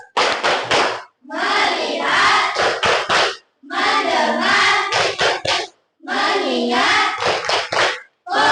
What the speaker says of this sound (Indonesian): Baik, kita mulai sekarang. Tepuk fokus.